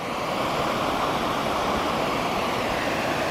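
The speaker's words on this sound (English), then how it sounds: "The river's very high." A swollen river runs very high after heavy rain, giving a dense, constant rushing roar that fills the whole moment without any break or speech.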